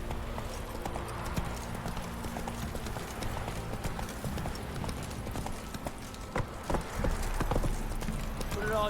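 Roach the horse gallops in The Witcher 3 video game, with quick, rhythmic hoofbeats that run close and steady through the scene, under game sounds and a voice.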